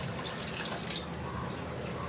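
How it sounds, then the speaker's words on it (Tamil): Water poured into a pot of vegetable biryani rice, a steady splashing gush filling the vessel for a couple of seconds with no talk over it. "இப்போ தண்ணி ஊற்றுறேன் இன்னொரு."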